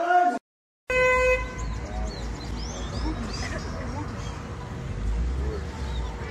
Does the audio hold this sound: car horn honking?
yes